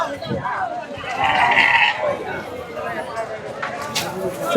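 Sheep and goats bleat at the Ranipettai livestock market, a few calls rising over steady crowd chatter and voices in a busy outdoor setting.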